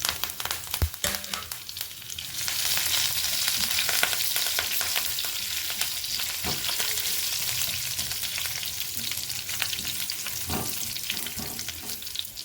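Dried red chillies and curry leaves sizzle loudly in hot oil for a tempering, a steady crackling hiss with occasional sharper pops and stirring scrapes.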